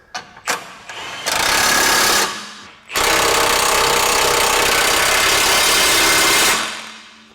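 A power impact tool tightens suspension bolts on a lifted 2019–2025 Honda Passport, rattling loudly in two sustained bursts with a short pause between them.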